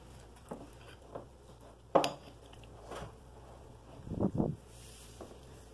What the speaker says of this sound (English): Now we're ready to stir.